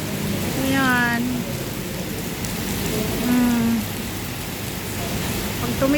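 Steady rain falling outdoors under a dark sky, a dense even hiss of drops throughout, with a few brief tonal calls rising over it now and then.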